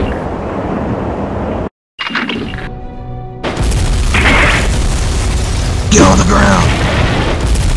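A bomb or missile explosion in a stop-motion Transformers Prime battle scene, a loud booming blast after a brief silence, followed by sustained rumbling debris and roaring noise, with a voice shouting over it.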